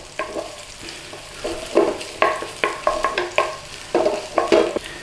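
Garlic and ginger sizzle and crackle in a hot pan for a stir fry while a utensil stirs and scrapes in repeated bursts, close by.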